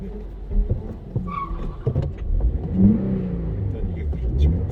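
Toyota GR86 manual sports car pulling away on a racing circuit, its engine rising under steady talk from people in the car, with a mid-pitched revving swell near the middle.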